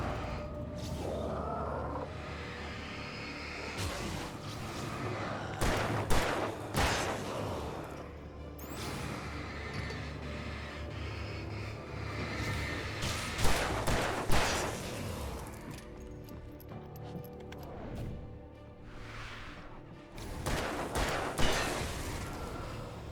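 A flashbang grenade goes off in Alan Wake amid a long stretch of combat, with sharp bangs, bursts of gunfire and whooshes spread across twenty-odd seconds, no voices.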